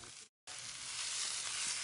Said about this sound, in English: Now I'm going to brown, or sear is the cooking term, all 4 sides for 1 minute per side